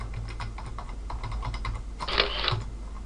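Quick, uneven keystrokes tap on a computer keyboard as text is entered into settings fields, with a denser burst of clicks near the end, close and fairly quiet.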